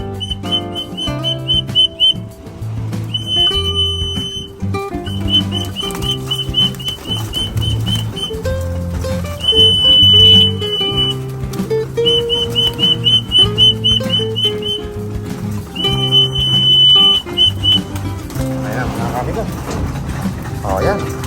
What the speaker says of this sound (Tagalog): Pero syempre, sisipol muna tayo. Kasi may pansipol eh.